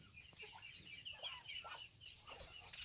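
Chickens clucking out in a rice field, a steady scatter of soft clucks and chirpy calls over low outdoor background noise, moderately close and fairly quiet.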